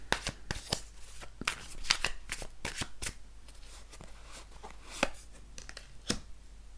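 Tarot cards being shuffled by hand, a quick run of soft riffling and slapping bursts, close and fairly quiet, with no talking.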